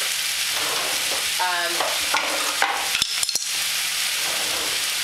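Tofu and shiitake mushrooms fry in a pan for larb, a loud continuous sizzle with bursts of stirring, spatula scrapes and a few sharp metallic clicks midway.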